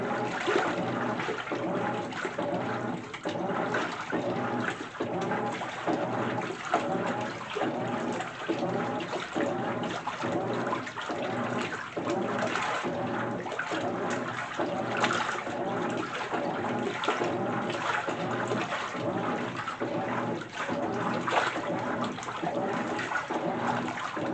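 A GE washer runs its Casuals cycle on decorative pillowcases in plenty of water, a steady rhythmic sloshing and churning with regular agitation strokes throughout, close and fairly loud with no talk.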